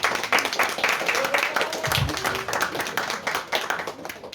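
Applause from a crowd, many hands clapping steadily and fairly close, with a few voices mixed in under the clapping.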